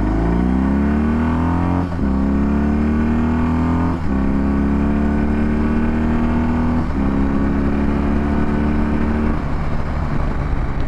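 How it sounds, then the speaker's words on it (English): A 2022 BMW R18 Transcontinental heavy cruiser motorcycle accelerating hard, its big boxer engine climbing in pitch through several gear changes, loud and close with steady wind and road noise underneath. "let's do some acceleration runs here"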